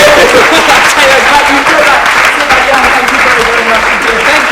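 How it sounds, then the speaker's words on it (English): Loud, close audience applause at a young magician of the year final, thick continuous clapping with a voice talking over it. "Will the two audience please open their hands to rapturous applause as I have found the odd ball?"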